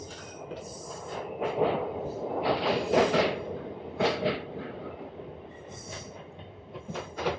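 RCF-built MEMU suburban train number 66029 running between Tirupati and Chennai near Renigunta Junction, with rumbling wheels, metallic rail squeals and rhythmic clatter rising and falling at moderate loudness.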